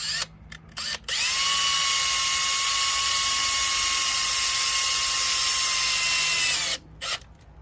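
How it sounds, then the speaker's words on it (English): A power drill drives a set screw into an RV door assist in one long continuous whine lasting several seconds, close and steady. Short clicks and brief bursts of the tool come just before and after the main run. "And then I'll put my next set screw back in."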